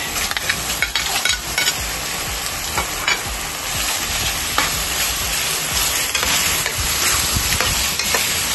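Pork sizzles and fries in a pan for Bicol Express, a steady, close crackling hiss with occasional stirring scrapes and clinks.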